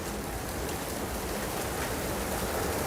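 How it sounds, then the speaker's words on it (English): Sudden summer rain pours down steadily, a dense even hiss of drops hitting surfaces all around, loud and continuous with no voices over it. "You guys hear this rain?"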